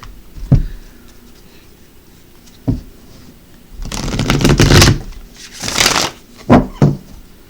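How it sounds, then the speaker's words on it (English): A deck of playing cards is shuffled up close: a few sharp taps and knocks, then two rapid riffling bursts, each lasting about a second, followed by more quick taps as the deck is squared. "Let's go ahead and shuffle the other deck"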